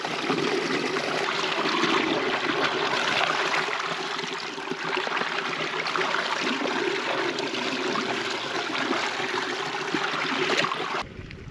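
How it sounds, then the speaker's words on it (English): Fresh water runs down a hillside gully stream in the Kilpatrick Hills, a continuous close babble and rush that holds steady the whole time and then cuts off abruptly at the end. "here's some fresh running water."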